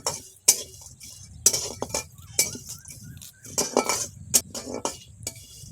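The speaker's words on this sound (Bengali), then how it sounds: "বিরিয়ানির মশলা আর চিকেন চাপের মশলাগুলো ড্রাই রোস্ট করে নিচ্ছি।" A metal spoon clinks and scrapes against a pan as whole biryani and chicken chaap spices dry roast: nutmeg, mace, star anise, cardamom, shahi jeera, cloves, rose petals and cinnamon. Crisp, irregular taps and stirring strokes sound close up with no talk.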